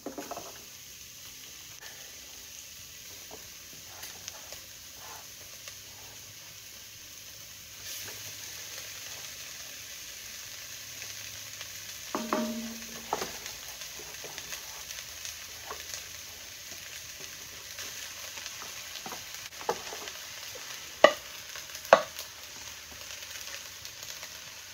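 Cooked rice added to a frying pan with seasoned vegetables for vegetarian Creole dirty rice, a steady low sizzle throughout with faint scraping stirs and a couple of sharp utensil knocks near the end.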